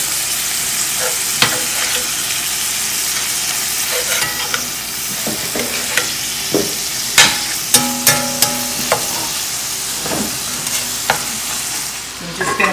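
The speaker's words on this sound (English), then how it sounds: "So I'm going to go ahead and turn this meat while the other skillet is getting hot." Meat frying in a skillet while being turned, a steady close sizzle broken by repeated scraping and clinking taps of a utensil against the pan.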